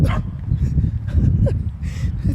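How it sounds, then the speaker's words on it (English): A dog barks and yips in a neighborhood during an outdoor walk, a few short barks heard over steady low background rumble. "Dog."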